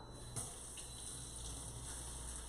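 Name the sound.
tap water rinsing a measuring spoon in the sink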